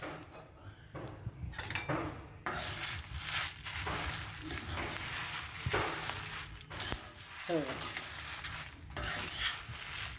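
Curry leaves and spices pop and crackle in hot oil while they are fried for curry leaf chutney powder, with bursts of sizzling and occasional stirring clinks from a pan.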